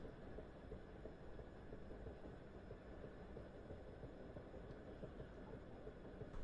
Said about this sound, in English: Another train over there.